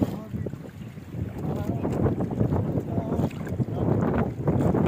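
Wind buffets a small fishing boat at sea, a rough, gusty rumble against the microphone with water noise underneath. People talk throughout.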